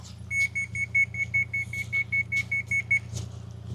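A level receiver sounds about fourteen evenly spaced, sharp electronic beeps while gravel footings are graded with a Kubota KX040-4 excavator. The steady low diesel engine hum runs underneath the beeps throughout.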